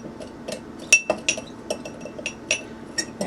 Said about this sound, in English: I have some sugar right here, and I'm going to be adding some of my cinnamon in there. I'm going to mix that around.